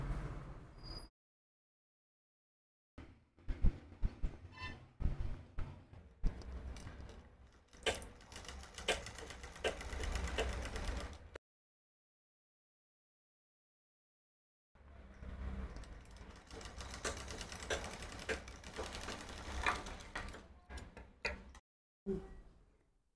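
An electric sewing machine stitching a blouse seam along marked lines, running in two long whirring bursts broken by short stops and a few clicks.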